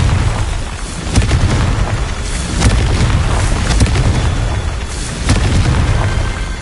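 A Confringo explosion spell in a Harry Potter video game goes off as loud, close blasts, several heavy booming bursts repeating over a dense rumbling roar with no talking.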